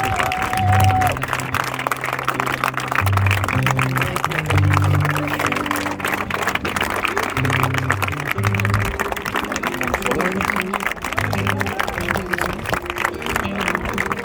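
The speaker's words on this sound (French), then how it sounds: "T'applaudis pour moi." Applause from a small audience at the close of a performance in Langrunes-sur-Mer, steady sustained clapping mixed with crowd murmur and some low musical tones, moderately loud throughout.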